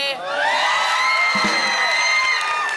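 A studio audience at a Thai TV song contest screams and cheers loudly, high shrieks sustained nearly the whole time after a brief quiet start.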